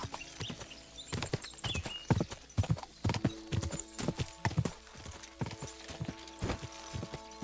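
Steady clip-clop of horse hooves at a brisk walking pace in the video game Kingdom Come: Deliverance 2, close and fairly loud, with a brief whinny and faint background clatter.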